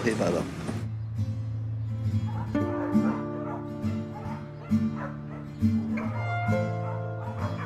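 Several dogs bark and yip repeatedly nearby at an adoption fair in Puerto Rico, with whimpers and people talking over them.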